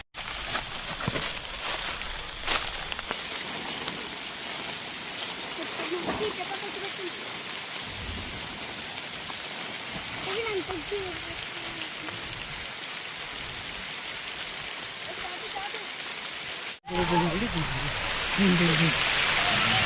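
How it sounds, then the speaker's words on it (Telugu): Heavy rain pours steadily over a campsite in a cashew orchard, a dense continuous hiss close by, with voices talking over it and the downpour growing louder and brighter in the final few seconds. "వర్షం అండి ఒకటే వర్షం."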